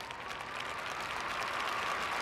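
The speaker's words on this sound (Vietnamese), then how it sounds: "Chúng ta cho một tràng pháo tay chào đón gia đình thí sinh Vượt Lên Chính Mình." A studio audience on the Vietnamese TV show Vượt Lên Chính Mình claps to welcome a contestant's family, a steady, even wash of applause without pause and with no voices.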